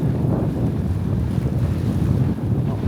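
Strong wind at 19 knots rushes past a sailing boat under way at close range, a loud, continuous roar of buffeting microphone noise mixed with the wash of the sea.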